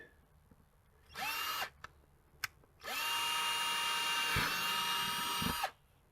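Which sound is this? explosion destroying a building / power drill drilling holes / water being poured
power drill drilling holes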